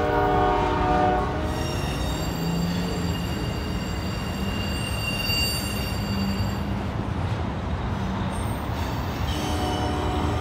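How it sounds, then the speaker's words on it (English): A Norfolk Southern freight train rumbles past at a railroad interlocking with steady wheel noise and a long, sustained horn blast, loud and close, with no one talking. "Oh, Norfolk Southern train over there."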